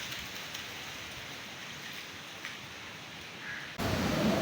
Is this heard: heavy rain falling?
yes